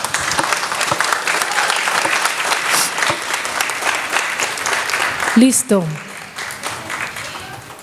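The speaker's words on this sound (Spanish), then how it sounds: "Recibámoslos con un fuerte aplauso" Dense, steady audience applause fills a Christmas event hall from start to finish, with a brief spoken word near the end as the clapping tapers slightly.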